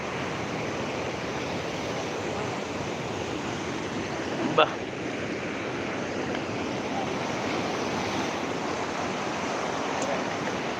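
Ocean surf washes against Rock Beach in the early morning, a broad continuous roar of breaking waves at steady loudness throughout, with one brief sharp knock partway through and voices faintly present.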